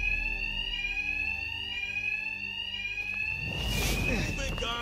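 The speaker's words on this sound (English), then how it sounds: "Two-Face's thugs won't hear me over the alarm." An alarm ringing in the Batman: Arkham Knight game, a loud continuous high electronic tone that holds steady, joined near the end by a burst of noise and voices talking.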